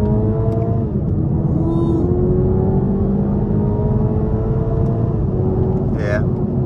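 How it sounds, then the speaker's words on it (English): Toyota GR Supra 2.0T accelerating hard in second gear on an open highway, a loud steady engine drone rising in pitch over several seconds with cabin rumble, a brief upshift dip near the end. "We can try a highway pull. Second gear."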